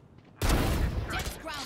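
Gunfire in the video game Valorant breaks in suddenly as a sustained loud burst of rapid shots. It starts abruptly after a quiet moment and continues to the end with little gap between rounds.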